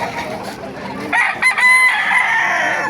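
A rooster crows loudly and close at a chicken market in Baliuag, Bulacan, its drawn-out call rising over softer clucking from nearby chickens.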